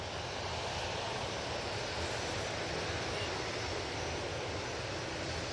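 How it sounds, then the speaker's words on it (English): An EasyJet jet airliner begins its takeoff roll at Manchester Airport, giving a steady, distant broadband engine roar that holds level throughout. "hopefully this EasyJet's going to go on the roll now"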